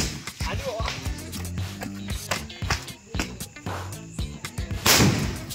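Series of sharp handmade Diwali firecracker explosions, one after another with irregular spacing, loud and close, with a bigger crackling burst near the end.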